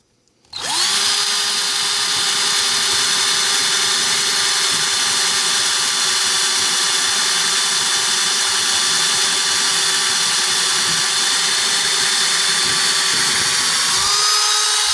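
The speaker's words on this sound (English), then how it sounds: "let's drill these things out" A power drill boring holes in the metal chassis of a Yamaha R-300 amplifier, starting abruptly and then running as one loud, steady high-pitched whine held close for over ten seconds with a slight pitch shift near the end.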